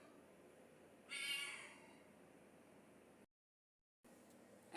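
A cat gives a single drawn-out meow, moderately close, over a steady background hiss, followed by a brief dropout to silence.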